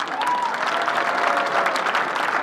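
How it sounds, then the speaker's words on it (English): A crowd applauds steadily at an ISSF World Cup shooting competition in Changwon, dense continuous clapping with a faint voice briefly rising over it. "Loud applause from the crowd"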